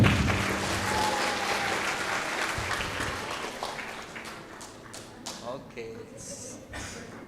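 An audience applauds at an academic event, the clapping strong at first and then thinning into scattered claps, with talk and some shuffling and thumps in the room.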